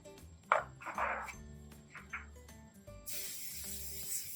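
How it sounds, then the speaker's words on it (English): Cooking spray hissing onto a 9x13 casserole tray, a few short spurts early followed by a longer steady spray near the end, quiet and close, with light clinks of handling between. "Giving it a good coating of cooking spray."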